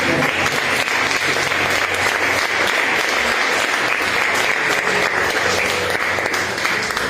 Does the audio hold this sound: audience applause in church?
yes